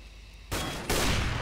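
Gunfire in the game Counter-Strike: Global Offensive, with two loud, sharp broadband shots about 0.4 seconds apart, each leaving a sustained noisy tail over a steady game background.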